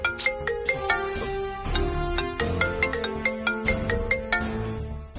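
A phone rings with an incoming call, playing a bright melodic ringtone with repeating plucked notes in a steady rhythm, clear and alone.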